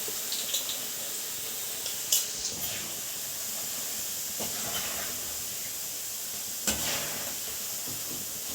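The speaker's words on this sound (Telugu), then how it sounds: "ఈ దినుసులు ఇదంతా చక్కగా ముందు వేగాలి నూనెలో" Spices such as garlic frying in hot oil for a chutney tempering, a soft steady hiss and sizzle with a few faint clinks of a utensil against the pan.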